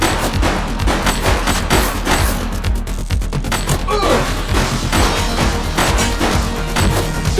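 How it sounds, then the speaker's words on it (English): Heavy gunfire rattles through a police shootout in the video game The Precinct, with dense bursts of shots and booms layered over a loud, busy background. The firing is continuous and close. "He's shooting!"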